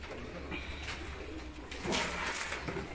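Pigeons coo softly amid a steady background murmur, the calling rising slightly louder near the middle and continuing to the end.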